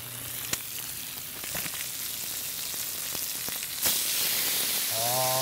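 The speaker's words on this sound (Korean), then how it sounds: "입맛을 더 자극시키는 고기 소리를 들려드려요" Meat frying on a whole pig barbecue sizzles in a loud, steady broadband crackle with scattered sharp pops throughout, heard alone without talk.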